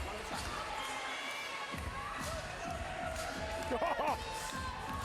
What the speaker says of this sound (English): Oh, the crowd loves it.